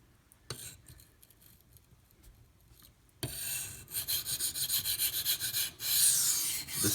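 A Dalton 07 Militia knife blade scrapes over a coarse Pride Abrasives sharpening stone after a single sharp tap. Steady, rhythmic gritty rasping strokes are close and fairly loud, with no talk.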